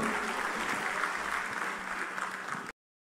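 A crowd at a political speech claps loudly and steadily for nearly three seconds, dense applause that cuts off abruptly.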